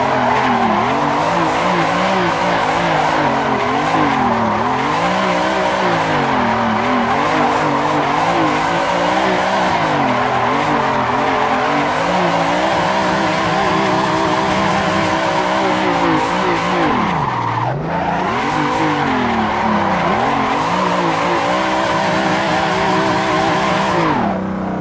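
Car tires squealing in a drift in the Asetek SimSports sim racing game, a loud continuous screech with wavering pitch over a steady engine drone, lasting the whole stretch.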